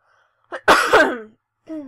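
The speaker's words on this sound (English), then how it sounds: "Sorry, I have to cough." A single harsh cough bursts out close by, followed after a pause by a brief voiced sound.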